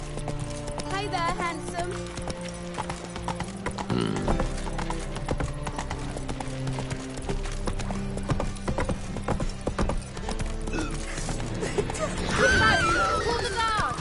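Hooves of Roach the horse in The Witcher 3 clop steadily and close over a busy game soundscape, with a whinny late on, while characters talk over the hoofbeats.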